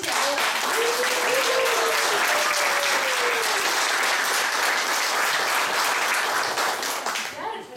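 An audience at a dance performance breaks into loud, sustained applause, dense clapping that fills the room for several seconds before tapering off at the end, with a voice briefly audible early on.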